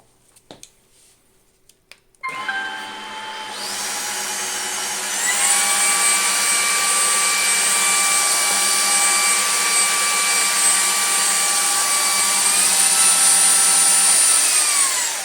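A Jimmy HW10 vacuum cleaner and washer starts up and runs steadily, its loud whine rising in pitch and then holding, with a faint gurgle of water being sucked off the floor.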